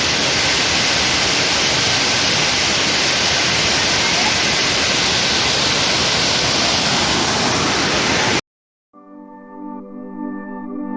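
A large mountain waterfall on the Shrikhand Mahadev trek roars as a loud, steady, dense rush of falling water that fills the scene up close, then cuts off abruptly near the end.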